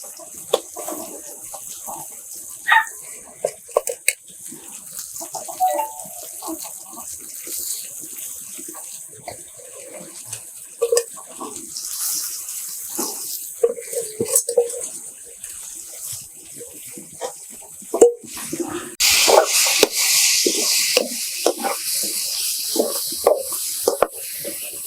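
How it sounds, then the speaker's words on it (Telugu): Marinated chicken tipped into a hot pan for a village-style curry made without masala, then stirred: steady sizzling and wet scraping with occasional knocks of the spoon, growing to a louder hiss toward the end. "మనము కలిపి పెట్టుకున్న చికెన్ ఇప్పుడు ఇందులో వేసేస్తున్నాము"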